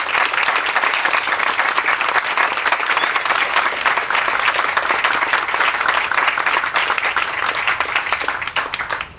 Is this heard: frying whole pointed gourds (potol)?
no